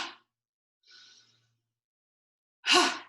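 Deep yoga breaths exhaled out through the mouth during a seniors' three-part breathing class: a brief soft breath, a faint one, then a louder, longer airy exhale close by.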